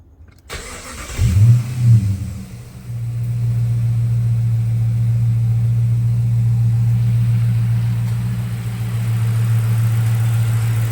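A vehicle engine on a freshly fitted lithium battery cranks briefly and catches, then settles into a loud, steady idle with a slight rev, recorded up close with no talking.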